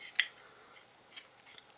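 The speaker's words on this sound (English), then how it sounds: "the other way to do it is to use a pair of scissors" Strong, sharp kitchen scissors snipping through raw chicken, a few quiet crisp cuts spaced irregularly over a near-silent background.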